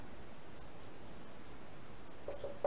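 Chalk or pen strokes on a board during a Sanskrit grammar lesson, a faint, steady scratching with soft repeated strokes, no talking.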